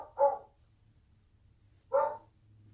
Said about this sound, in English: My little dog, Willow, is very upset